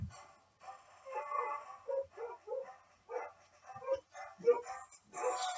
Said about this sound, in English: ignore the dogs in the background